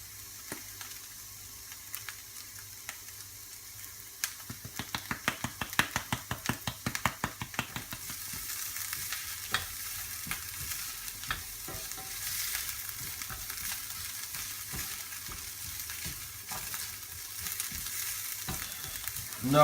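Tomato puree, garlic puree and garam masala fry in a pan while being stirred, giving a quiet, continuous sizzle with a burst of sharp scraping and stirring strokes in the middle, no voices.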